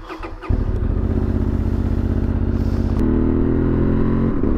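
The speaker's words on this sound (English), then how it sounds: "let's go ahead and start the bike up so you can hear the beautiful Yoshi exhaust" A Honda Transalp 750 motorcycle cranks and fires up, settling into a loud, throaty idle through a Yoshimura exhaust, then rising in pitch as the throttle is blipped.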